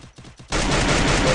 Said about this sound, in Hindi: मैं अपनी गन चेंज करता हूँ फिर इसको मारता हूँ।